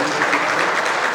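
Steady applause from a crowd, dense clapping throughout at an even level.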